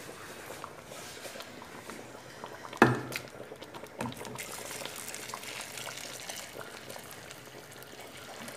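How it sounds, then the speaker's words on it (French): Hot water is poured into a simmering broth of chickpeas for Kabyle couscous with wild thistles, giving a close bubbling, splashing pour with a sharp start and steady simmer underneath. "je vais ajouter de l'eau chaude"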